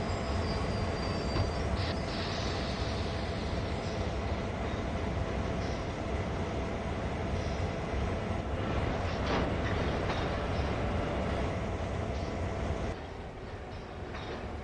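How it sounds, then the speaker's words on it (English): A continuous rumbling train roll in Train Sim World 2 on Sand Patch Grade, moving slowly, steady and loud throughout, with a faint high whine, easing slightly near the end. "Trying to derail the train going 9 miles an hour."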